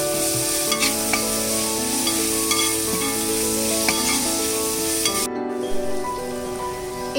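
Ginger and garlic paste stirred into fried onions in a pan for a Kerala chicken curry, giving a loud, continuous sizzle with periodic scraping strokes, close up, then a brief dip near the end.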